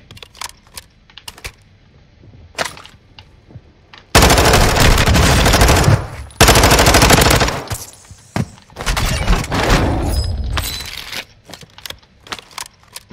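Gunfire in a Call of Duty video game: two long, loud bursts of rapid automatic fire fill the middle of the stretch, with scattered sharper shots and clatter before and after, no talking over it.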